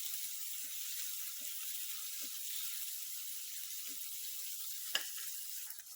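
Chopped onions for egg curry sizzle steadily in hot oil, a constant loud hiss with a few soft clinks of a spoon stirring and one sharper pop near the end.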